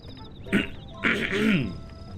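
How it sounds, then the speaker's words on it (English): A person hoarsely clears a raspy throat in two close, rough bursts, the second longer and grating, over faint electronic game music from Super Mario Galaxy. "clear my throat."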